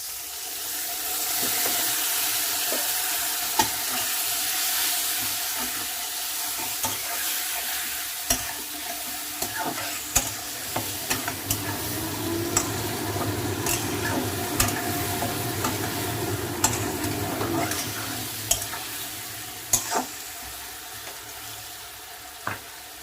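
Water from rinsing the grinder is poured into spice paste sizzling in a pan for a thin Bengali rohu fish curry with drumsticks; a steady frying hiss runs throughout, broken by scattered utensil clinks and scrapes, with no talk.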